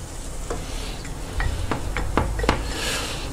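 Battered zucchini tempura fries in hot oil with a steady hiss and sizzle. Several sharp crackles and pops rise through the sizzle, close and loud, with no talking.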